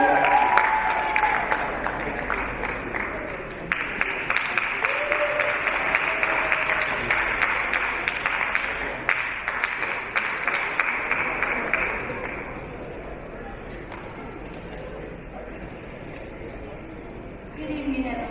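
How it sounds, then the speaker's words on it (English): Sustained crowd applause fills the room, steady and fairly loud, tapering off toward the end as scattered clapping fades. "Applause. Let's welcome Steve Bowling."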